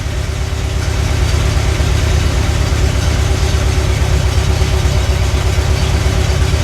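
A Škoda 110 L engine idles steadily just after its first start, a loud, close, even low rumble with a regular pulsing beat and no talk over it.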